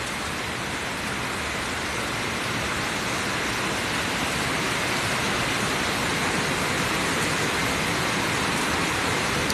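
Steady, dense broadband hiss of rain falling during a storm, continuous and even throughout with no voices or distinct drops standing out.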